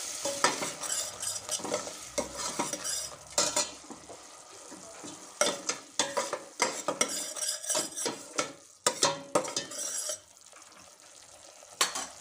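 A spoon stirs masala paste with asafoetida in hot oil, giving a close, uneven series of scraping clinks against the pan over a continuous sizzle that rises and falls with each stroke.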